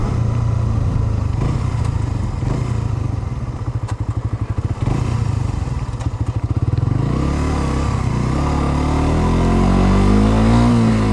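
A Suzuki GSX-R 125 ABS motorcycle engine revs hard while accelerating, a loud close buzzing drone that climbs in pitch through the gears, with a rough thumping patch midway and a rising whine toward the end.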